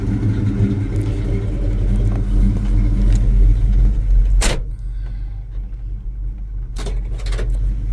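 A 1984 Chevy C10 pickup engine runs with a steady low rumble, a sharp knock or clunk cutting in midway, then a quieter idle with another brief clatter near the end.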